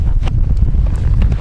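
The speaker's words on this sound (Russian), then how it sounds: "Небольшой ветер южный." A light southerly wind blows across a frozen lake at first ice, producing a steady, close, low rumbling buffet with no pauses.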